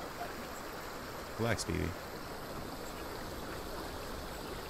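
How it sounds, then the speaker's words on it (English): Fresh water from a stream in the Death Stranding video game, flowing steadily as a canteen fills, makes a continuous soft rushing wash throughout, with a brief spoken remark partway through. "The canteen on the bottom left, you see the numbers going up, it's filling up."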